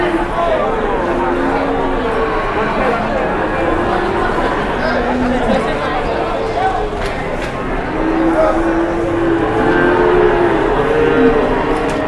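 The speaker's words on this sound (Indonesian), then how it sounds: "Ini sapi-sapi jumbo sudah mulai berdatangan ya, teman-teman." Jumbo cattle low and moo at a busy livestock market right after Eid al-Adha, their calls rising intermittently over continuous crowd chatter and people talking nearby.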